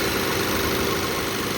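A car engine idling steadily just after servicing, a continuous low mechanical rumble with a faint whine, close and alone with no talk.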